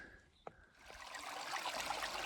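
Creek water in McKittrick Canyon in the Guadalupe Mountains, a soft hissing trickle that swells up after a quiet start and a small knock, then runs on steadily and faintly.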